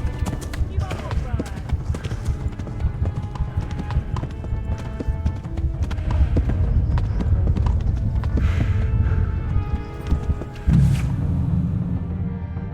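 Horse hooves clip-clop in the medieval video game Kingdom Come Deliverance, a steady rhythmic clatter of hoofbeats heard near and loud over a low rumbling background, with a brief whinny-like cry near the end.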